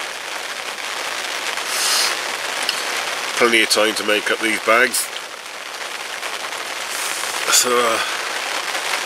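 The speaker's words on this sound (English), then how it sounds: "it's been raining for about an hour now" Steady rain falls at a fishery, a close, dense patter that runs unbroken throughout while someone talks briefly over it.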